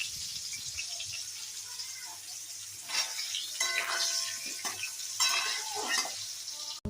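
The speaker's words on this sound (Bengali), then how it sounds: "এইবার আলুটা দিয়ে দিলাম।" Potatoes go into a hot frying pan and sizzle, with bursts of louder crackling and spatula stirring scrapes over a steady background fry.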